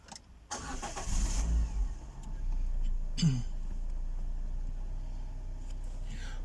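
A Citroen C4 engine cranks and catches close by, then settles into a steady low idle, with a brief throat-clearing-like sound partway through.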